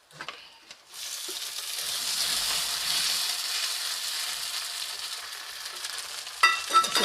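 Green chillies and tomato dropped into a hot pan for a stingray curry, a few soft knocks then a sudden burst of loud, steady sizzling that holds evenly, ending with a couple of louder stirring clatters, no talking.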